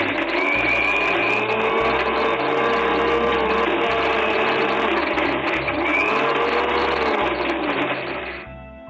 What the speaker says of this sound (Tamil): இந்த மாதிரி கொரகொரன்னு அரைச்சுக்கோங்க